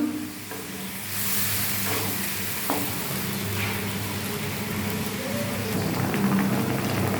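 Fish sizzles in a pan of water seasoned with mustard powder and turmeric, a steady, close, loud frying hiss running throughout, with a few soft stirring clinks and a low background hum, and no voices.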